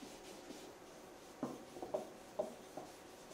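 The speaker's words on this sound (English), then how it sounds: "sanding with quadruple-aught steel wool between each coat" Soft scratchy rubbing, a few short strokes against a quiet background, as 0000 steel wool is worked over a finished wooden bank between coats up close.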